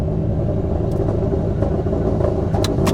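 A 488bhp Subaru WRX STI on high boost with launch control rumbles close by, its deep engine note held steady and loud for the full stretch with no voices over it.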